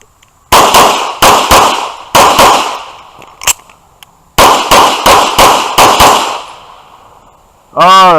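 Loud pistol shots from a Grand Power and a Sig X5 Legion ring out in quick strings of two to five sharp cracks with brief pauses between groups, ending with a short electronic timer beep.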